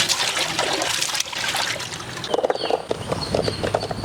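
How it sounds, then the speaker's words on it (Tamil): Green chillies are rinsed in water for chicken biryani, giving splashing and trickling sounds with soft knocks and sloshes close by. "பச்சை மிளகாய் கழுவி எடுத்துக்கலாம்."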